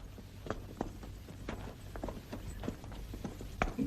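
Horses' hooves clip-clop at a walking pace in a 1965 period film scene, a steady uneven series of soft knocks at moderate distance with no voices over them.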